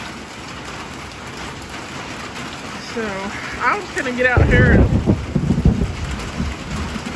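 Heavy rain pours steadily with thunder during a thunderstorm, outdoors in a garden. The downpour builds louder toward the end, and a person talks over it in the middle.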